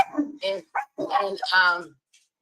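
A dog barks and yips in a quick run of short, sharp bursts close by, with brief pauses between them.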